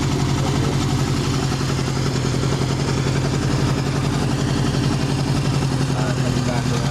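A 1978 Honda CB750 fitted with a Kerker aftermarket exhaust runs steadily nearby, its engine note a constant mid-pitched rumble with a rapid pulsing beat and light mechanical clatter, while people talk over it throughout.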